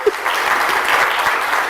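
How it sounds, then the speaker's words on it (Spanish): A congregation breaks into applause during a sermon, a short, lively burst of many hands clapping that stays loud and even from start to finish. "A lo menos un aplauso"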